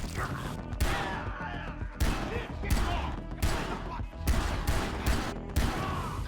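Gunfire in Far Cry 3, a run of loud sharp shots in uneven bursts with rumbling impacts between them, heard without talk.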